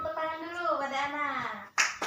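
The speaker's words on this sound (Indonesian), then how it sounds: "Beri tepuk tangan dulu pada Ana." A primary-school class bursts into a short round of applause for a pupil, the quick sharp claps coming right after a teacher's voice and cut off almost at once.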